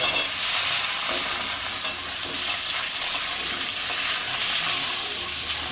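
Hog plums stir-fried in hot oil with already-fried garlic and chillies for a pickle: a constant bright sizzle and hiss, with a few faint clinks of stirring, close and alone.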